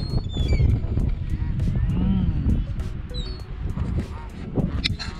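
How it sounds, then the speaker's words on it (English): Several wild geese honk repeatedly nearby in Hawrelak Park, over a steady outdoor rumble, calls overlapping and rising and falling, with faint voices in the background. "Wild geese in Hawrelak."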